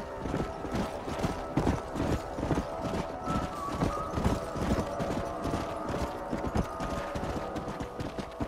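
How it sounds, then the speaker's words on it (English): Horse hooves clip-clop steadily in the Red Dead Redemption video game, a busy run of close, overlapping hoof strikes set against a game soundscape, with a faint whinny now and then. "Stay with the horses."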